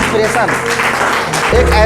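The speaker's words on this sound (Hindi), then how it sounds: "मैं चाहूँगा इनके लिए एक बार जोरदार ताली होना चाहिए" Clapping from an audience at a career opportunity program event, loud and close, mixed with a voice speaking over it and a brief louder swell near the end.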